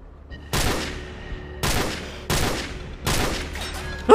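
Gunfire in the video game Call of Duty 4: Modern Warfare, four loud bursts of rapid automatic shots each lasting about half a second, separated by short gaps over a low steady background hum.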